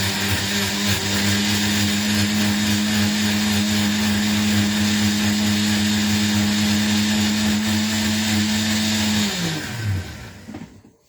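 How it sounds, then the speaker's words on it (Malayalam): A kitchen mixer grinder purées tomatoes, a loud steady motor whine running alone for about nine seconds before spinning down and stopping near the end. "ആദ്യം ഞാൻ തക്കാളിക്കാണ് അരച്ചുകൊണ്ട് വരട്ടെ."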